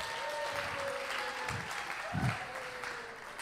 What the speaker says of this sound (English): Give Goliath a hand clap of praise here.